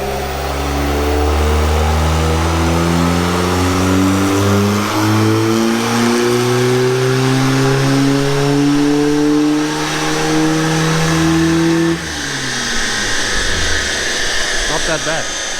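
A loud Mk2 car engine revs hard during a burnout and holds high, steadily climbing in pitch, then drops off suddenly near the end with rough, crackling noise.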